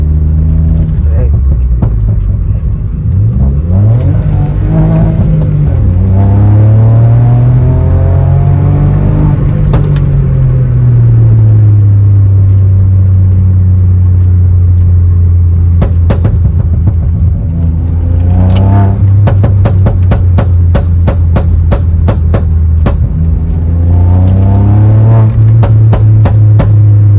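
A Volkswagen Polo 1.0 TSI with a Venom Stage 2 full exhaust revs hard. A loud, close engine drone rises and falls as the turbo spools, with sharp pops and crackles in bursts, and talking occurs over it.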